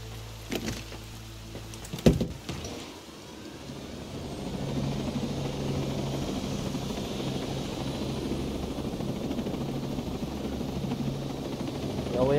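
A helicopter in the Ghost Recon Breakpoint video game thrums steadily at moderate distance, a continuous rotor drone that swells slightly near the end after a few brief sharp sounds at the start.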